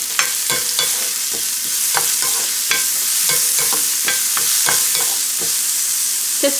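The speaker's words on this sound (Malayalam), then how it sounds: "ഓയിൽ ചൂടാകുമ്പോൾ ഇതിലേക്ക് നമുക്ക് ഓണിയൻ ഇട്ട് കൊടുക്കുക, ഇഞ്ചി ഇട്ട് കൊടുക്കുക. എന്നിട്ട് ജസ്റ്റ് ഒന്ന് സോട്ട് ചെയ്ത് കൊടുക്കുക" Onion and ginger sautéing in hot oil: a constant bright sizzle punctuated by regular sharp scrapes and taps of a spoon against the pan, close and fairly loud, with no one talking.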